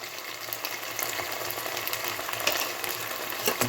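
Spices sizzling and frying in a pan with chopped tomato, a steady crackling hiss with small pops, close and continuous, no talking.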